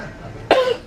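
A single short, close throat clearing, a brief harsh burst after near silence, then a faint voiced tail.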